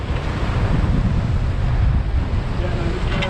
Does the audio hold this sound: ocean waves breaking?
yes